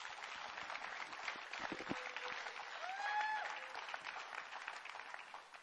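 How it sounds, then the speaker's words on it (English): A church congregation claps in a warm, dense round of applause that swells and holds steady for several seconds; a brief tonal sweep rises midway, and no speech is heard. "a big round of applause again"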